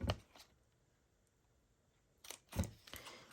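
A handheld hole punch snapping through the paper flap of a small treat box, with two or three close, crisp clicks separated by a quiet pause.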